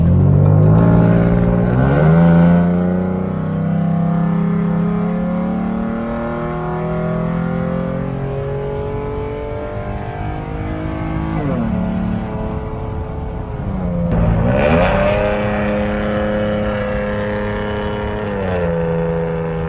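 A Ford F150 pickup truck accelerates hard in repeated pulls, its engine climbing steadily through gears with rising, loud revving heard from inside the cab, each shift briefly dropping the pitch before it climbs again.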